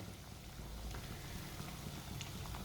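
Bread kebabs fry in oil over a low flame, giving a soft, continuous patter of small bubbling crackles at low volume.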